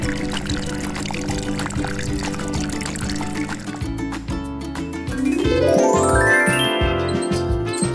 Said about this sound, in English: Water the plants.